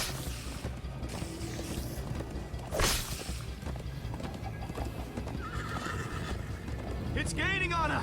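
Hooves clip-clop steadily through a busy Minecraft: Story Mode game soundscape, with a horse whinnying a few times, including a loud neigh near the end, while voices talk over it.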